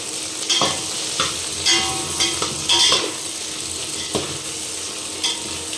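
Mixed vegetables and potatoes stir-fried for temple bhog prasad, a continuous close sizzle broken by repeated scraping strokes of a spoon against the pan, no talk.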